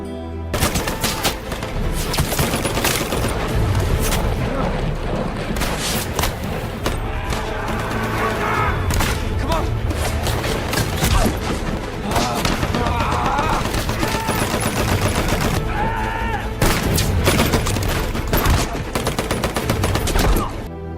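Battle gunfire from a war film at Hacksaw Ridge as troops escape under enemy fire: dense, continuous machine-gun bursts and rifle shots with booming impacts, loud and relentless throughout, under a musical score.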